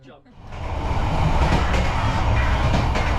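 A long passenger train in Vietnam rolls along with a steady, loud rumble and rattle of carriages, a continuous close roar with faint clacking that swells up after a brief quieter start.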